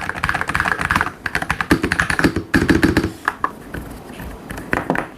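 Rapid keystrokes on a Skyloong GK75HE magnetic-switch keyboard with gasket mount and BlackBerry-style keycaps, close and steady with short bursts and brief pauses, no talking.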